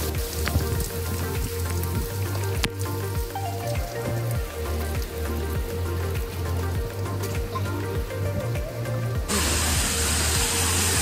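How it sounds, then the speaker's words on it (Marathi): Heavy rain pours steadily during a mountain trek to Harishchandragad in the monsoon, a loud continuous hiss with rhythmic footstep-like thumps underneath, growing denser and brighter toward the end. "पाऊस काय उघडायचं नावच घेत नाही मित्रांनो, चालूच आहे सध्या"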